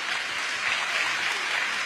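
A crowd at an outdoor village festival evening of Teochew opera singing claps steadily to welcome two singers, a dense, even wash of applause filling the whole moment without speech.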